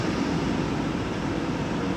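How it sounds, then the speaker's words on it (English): A fast German train passes at a distance as a continuous, steady rumble with an airy whoosh, heard alone with no talking. "there's a train coming"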